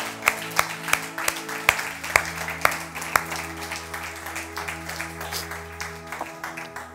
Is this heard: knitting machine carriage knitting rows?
no